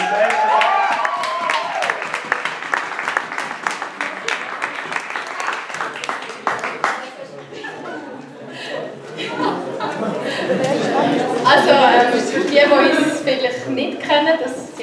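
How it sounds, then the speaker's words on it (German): An audience at a stage event in Freiburg applauds and chuckles. Clapping is heavy in the first half, then laughter and crowd noise follow, with voices mixed in. "Herzlichen Applaus."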